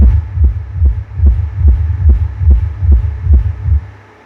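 Deep, booming subwoofer bass through a 3-way crossover pulses in a steady rhythm, roughly two beats per second, loud and close, with a faint hum underneath and no voices.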